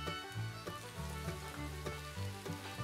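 Half a kilo of beef mince frying with chopped onions in a pan makes a soft, close sizzle broken by regular stirring scrapes, with no talk.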